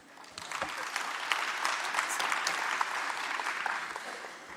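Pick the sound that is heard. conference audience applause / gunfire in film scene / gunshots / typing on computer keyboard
conference audience applause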